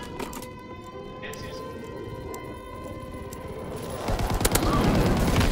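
Rapid gunfire erupts in a first-person shooter video game, a loud crackling fusillade that swells toward the end over a steady siren-like tone, with a player talking throughout.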